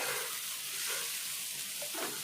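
Tomatoes hit a hot frying pan with turmeric over medium flame for a tomato egg curry, giving a loud, dense, steady sizzle that fills the whole moment close up.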